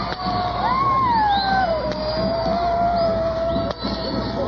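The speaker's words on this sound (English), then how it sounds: "Listen to that crowd." Crowd noise at a military homecoming parade for the returning 1st Battalion, Calgary Highlanders, heard as a broad, steady roar of distant cheering with a whistle-like tone gliding over it, on an old radio broadcast.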